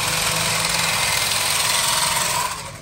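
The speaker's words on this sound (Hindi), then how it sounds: "ये देख रहे हैं आप लोग कैसे सिलाई वाली मशीन है, फटाफट जो है ना राशन के पैक जो है वो बना रहे हैं" Fast continuous mechanical whir of a sewing machine stitching ration bags closed, a steady buzzing drone that runs throughout before easing off near the end, with no talk.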